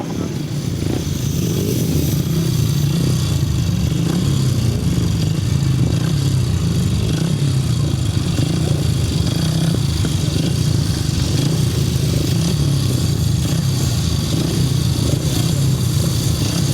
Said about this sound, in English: And revs rise for the 350s. It's race 17 and away they go